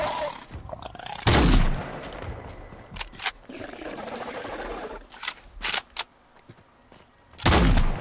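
Gunfire in the survival crafting game Nightingale, a few loud, sharp gun blasts spaced apart, one near the start and one at the end, with shorter clicks and thuds between them.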